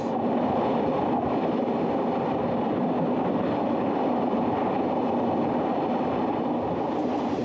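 An X2800 railcar rumbles steadily along the rails on an uphill grade, a continuous loud, close-up roar with the rolling clatter of wheels and no voices.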